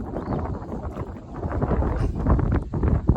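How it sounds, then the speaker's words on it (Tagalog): Strong wind buffets the microphone outdoors during net fishing for tilapia, a continuous rough roar that gusts and swells, with no clear voices. "medyo malakas yung hangin"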